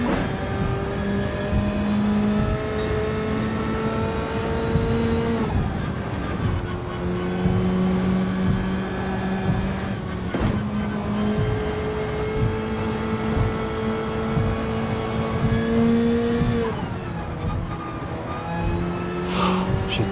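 A race car in Gran Turismo 7 accelerates on Tokyo Expressway, its engine whining up through the gears in rising sweeps with brief dips at each shift, loud and continuous throughout.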